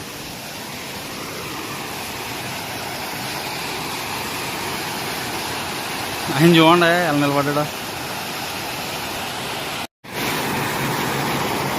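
A constant roar of water spilling across flat rock at Ananthagiri falls fills the background, while someone speaks briefly partway through over the steady rush, followed by a momentary dropout near the end.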